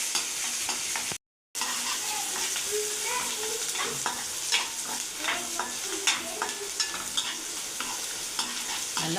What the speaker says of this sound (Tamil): வெங்காயம் போட்டு நல்லா வதங்கட்டும்.